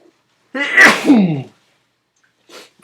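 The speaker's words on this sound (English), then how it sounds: "That was a sneeze." A single loud, close sneeze with a sharp intake and explosive burst, followed by near silence.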